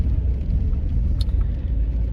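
A car drives along the road toward Swansea, heard from inside as a steady low engine and tyre rumble with no speech.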